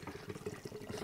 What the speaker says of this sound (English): You need to give it a hard pour.